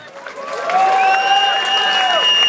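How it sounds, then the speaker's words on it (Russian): A crowd at a muay thai and K1 fight breaks into applause that swells quickly and holds steady, with whistles and cheers rising above the clapping. "Итак, бурные аплодисменты!"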